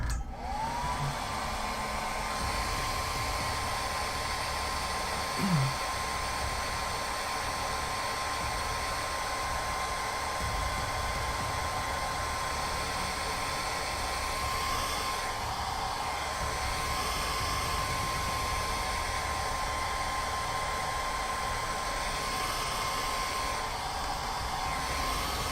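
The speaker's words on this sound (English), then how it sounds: "let's grab the hair dryer." Hair dryer running continuously in a hobby painting setup, a steady close-up whoosh with a faint high whine that holds constant for the whole stretch.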